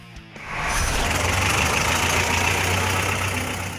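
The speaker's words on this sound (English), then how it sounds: "A parade of Grey Dorts through the city of Chatham." Vintage Grey Dort cars rumble past in a centennial parade through Chatham, a steady mid-to-low engine drone that swells up after a quieter start and holds, fairly close, with no voices.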